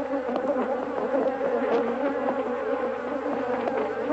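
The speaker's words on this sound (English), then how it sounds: "More than 500 stings a minute savaged the bag in which the microphone was placed." A swarm of attacking Africanized bees stings a bag holding a microphone, producing a dense, loud, continuous buzzing drone with constant agitated fluctuation and no voices.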